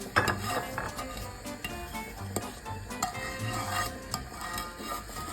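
Toasted shredded kadayif pastry is stirred and scraped from a pan onto a plate, giving a steady rustle with a few clinks of utensil against cookware, close and moderately loud.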